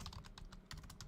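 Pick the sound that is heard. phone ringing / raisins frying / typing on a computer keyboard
typing on a computer keyboard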